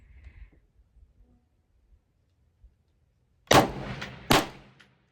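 Two loud rifle shots ring out at an outdoor shooting range during long-distance practice, spaced under a second apart, each with a sharp crack and a short echoing tail after a quiet stretch.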